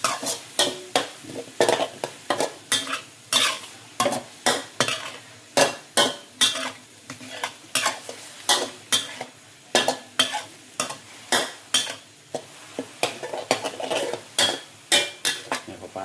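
Fish cooking in a little oil in a pan, stirred with steady, rhythmic scraping strokes that repeat roughly twice a second over a soft, continuous sizzle, close and fairly loud.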